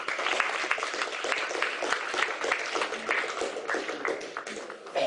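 An indoor audience at a lecture on Islamic law breaks into sustained applause, a dense, even clapping from many hands that carries on steadily throughout.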